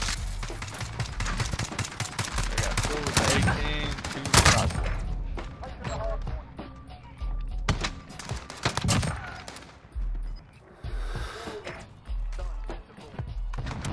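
Sniper rifle shots from a Rytec AMR in a video game ring out as sharp, loud reports among scattered gunfire and impacts, with a voice talking between them.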